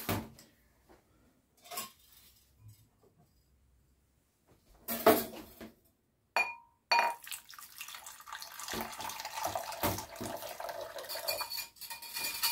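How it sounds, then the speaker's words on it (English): Warm water is added to yeast for bread dough, with scattered clinks of dishes and utensils at first, then a steady pour running and splashing into a bowl for several seconds. "Add some water, some of the warm water."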